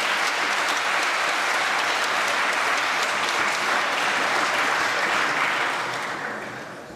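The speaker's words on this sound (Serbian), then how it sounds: "Još jedan aplauz za tim Poljske." Sustained applause from a large audience for the Polish team at a mathematics competition awards ceremony, thick even clapping filling the room before tapering off over the final second.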